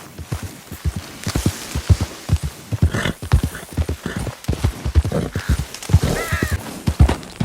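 Horse hooves clip-clop in a steady, close rhythm in the Red Dead video game, a continuous run of sharp hoof strikes with no talking.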